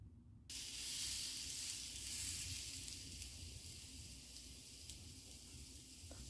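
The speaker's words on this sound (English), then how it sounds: "Preheat the griddle, then add the swordfish." Swordfish hits a preheated griddle and a steady, bright sizzle starts abruptly, holding a close, even hiss with faint crackles throughout and no talking.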